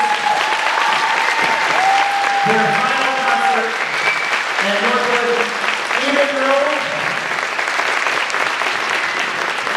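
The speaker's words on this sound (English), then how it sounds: "Everybody, a big round of applause for our 8th graders." An audience applauding eighth graders at their final spring school concert, a thick continuous round of clapping throughout, with a voice speaking briefly over the start and scattered voices mixed in.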